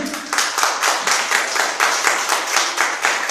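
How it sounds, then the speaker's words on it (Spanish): A church congregation claps in steady rhythmic bursts roughly three times a second, close and lively, filling the room without any voice on top. "Den un aplauso al Señor."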